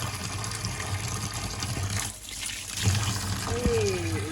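Hot water runs and splashes while mud is washed off potatoes in a home kitchen. The flow is close, steady and trickling, with a brief dip in the middle, and a faint voice is heard briefly near the end.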